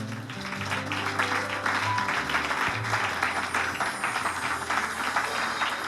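A church congregation in Fès applauds, a steady wash of many hands clapping at moderate volume over music, with no one speaking.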